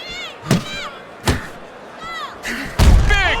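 Heavy punches land with sharp, loud thuds in the boxing video game Fight Night Champion, three or four separate impacts with crowd murmur in between, ending in a louder, heavier blow that floors a fighter.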